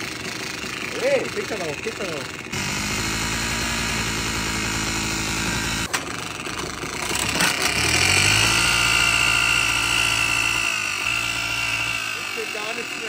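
Old cheap scooter engine catching after a kick: a brief quiet stretch with a voice, then the motor bursts into a loud, close idle, revs up in the middle and settles back, with speech at moments.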